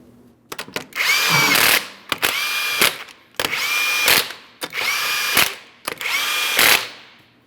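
A power tool runs home five 21mm wheel lug nuts on a 2005-2010 Chrysler 300, making five evenly spaced, close whirring bursts, each ending in a brief rattling hammer before a short silence.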